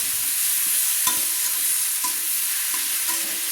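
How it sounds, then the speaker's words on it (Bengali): Spices, pumpkin and potato being sautéed in oil on a low flame, a steady soft sizzle with a few clinks and scrapes of a spoon stirring in the pan, no voices. "দিয়ে আমি ভালো করে মশলাটা কুমড়ো, আলু এবং তেলের সঙ্গে কষিয়ে নিচ্ছি।"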